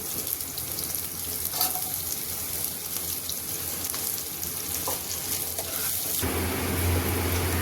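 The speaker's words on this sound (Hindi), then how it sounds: "1 चम्मच तेल में ये लहसुन, मिर्च, प्याज, टमाटर, अदरक सारा हल्का सा भून लेंगे" Steady hissing sizzle of garlic, chili, onion, tomato and ginger frying in a spoonful of oil, with light stirring knocks, the sizzle swelling louder near the end.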